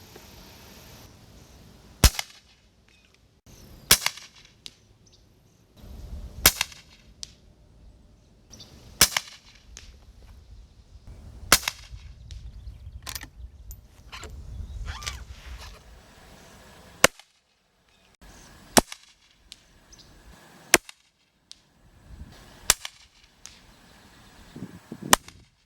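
CCI .22 Short Quiet rifle rounds are fired one at a time at targets 100 yards out. About a dozen sharp, faint cracks are spaced irregularly over quiet outdoor background with soft rustling between shots.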